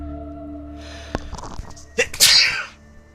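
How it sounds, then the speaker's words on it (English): A single loud, close sneeze with a sharp inhale and explosive burst, preceded by quiet shuffling and low background hum. "Sorry, I had to sneeze."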